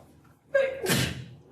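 A single sharp sneeze bursts out in a lecture hall, a short voiced intake rising into a loud, breathy explosive burst that fades over about half a second, close by with faint room noise around it.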